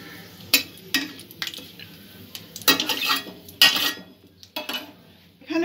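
Cardamom and a bay leaf stirred in a pan, with irregular metallic scrapes and clinks of a spoon against the vessel over a faint background sizzle, close up with no voices.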